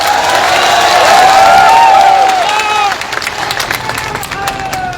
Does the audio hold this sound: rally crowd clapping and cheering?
yes